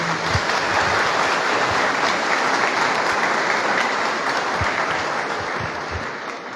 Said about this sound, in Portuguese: saudemos com uma salva de palmas